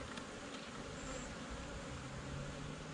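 Honeybees buzz at a hive on a rainy day, a faint, continuous hum with no voices and a low background rumble underneath.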